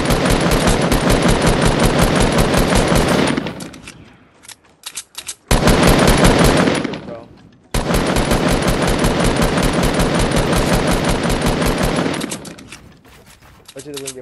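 Rapid automatic gunfire from a Fortnite-style battle game, loud, dense bursts lasting several seconds with a short gap between, cutting out abruptly and then resuming.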